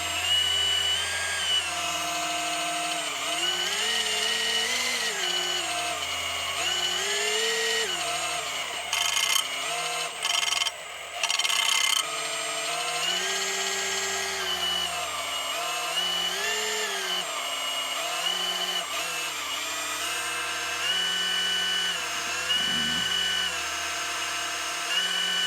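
An electric drill drives a socket head cap screw on the hydraulic governor of a 1944 Cleveland generator, a steady loud whirring motor run lasting the whole stretch, its pitch wavering up and down with load and briefly interrupted midway.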